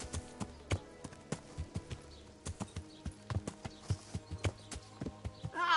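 Horse hooves clip-clopping in the medieval game Kingdom Come Deliverance, a brisk, uneven series of close, sharp clops that grows louder and busier toward the end.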